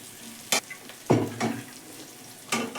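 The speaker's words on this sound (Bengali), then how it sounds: "আমার মশলা ভাজা হয়ে গেছে তেল ছেড়ে বেরিয়ে আসছে এবারে আমি ডালটা ঢেলে দেব" Lentils poured into hot oil with fried spices, ready for a muriganta made with masoor and chana dal, set off a loud sudden sizzle, followed by stirring clinks and a second burst of frying near the end.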